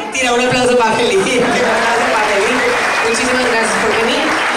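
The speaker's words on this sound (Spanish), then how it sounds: "Tira un aplauso para Felipe." Applause from a live comedy show audience for a guest, clapping under loud cheering and voices, with a person talking prominently over the crowd throughout.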